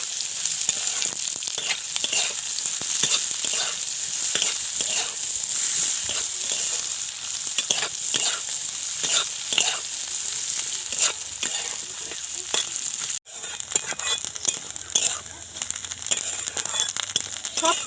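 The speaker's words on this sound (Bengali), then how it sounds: "দিয়ে দেব কারি পাতা দিয়ে দেব নারকেল কুচি সব উপকরণ ভালো করে ভেজে নেব" Curry leaves and chopped coconut fry in a pan of hot oil for chalvaja, a continuous bright sizzle broken by rhythmic scrapes and taps of stirring.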